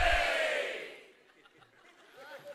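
A short, loud burst of crowd screaming from an audience shouting on cue during a rhythm exercise at a Rotary event, dying away within a second and leaving faint room noise.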